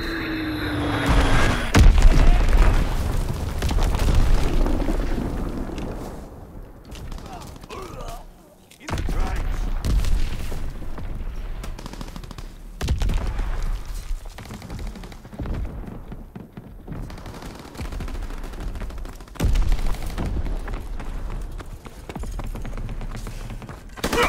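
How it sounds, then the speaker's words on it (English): Enemy artillery bombardment in Call of Duty: WWII: heavy booms and thuds land in repeated waves over steady battlefield gunfire and rumble, loud and close, with a few short gaps between barrages. "Incoming enemy artillery! Get to cover!"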